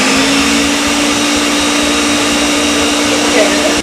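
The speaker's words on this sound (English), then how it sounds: "Got all the ingredients in the blender now, so we blend it until it's well blended." A kitchen blender whirs steadily and loudly through chopped onion and other ingredients, a constant dense motor roar with a low hum that holds without pause until it cuts off at the end.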